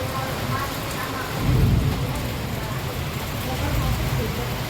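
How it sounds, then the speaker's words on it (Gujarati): Heavy monsoon rain pours steadily over Junagadh, a loud, unbroken hiss of water with a low thunder rumble swelling partway through. "વરસાદ આવે છે બહુ જ, પાણી પાણી પાછું થઈ ગયું છે"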